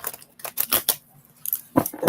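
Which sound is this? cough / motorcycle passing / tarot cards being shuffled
tarot cards being shuffled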